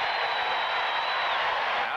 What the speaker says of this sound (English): the reason for the applause is the return of Marcus Allen